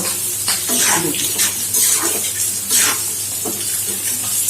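Water is poured into a pan of simmering fish kalia, a steady splashing hiss with sizzling, loud and close, running continuously throughout.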